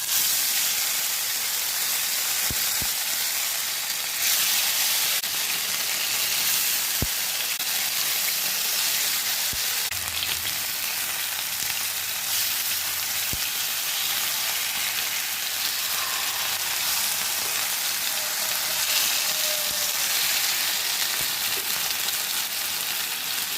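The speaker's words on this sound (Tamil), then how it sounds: "பேன் அடுப்பில் வச்சு எண்ணெய் சூடான உடனே மீனை எல்லாம் ஃப்ரை பண்ண போட்டுடலாம்" Spicy masala-coated fish fries in hot oil in a pan, giving a steady, loud sizzling hiss that continues unbroken, with a few faint clicks and taps of cookware along the way.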